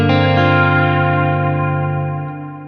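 A sustained, swelling guitar tone through a Strymon Nightsky reverb pedal, its bright upper harmonics shimmering above a steady low fundamental, slowly fading toward the end.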